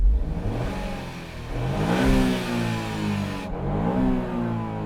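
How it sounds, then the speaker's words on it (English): A small Honda car engine revs up and down a few times, rising pitch swells then settling back to a steady idle, close and fairly loud. "I'm just going to do a quick sound check. So this is the Honda."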